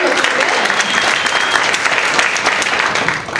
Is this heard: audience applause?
yes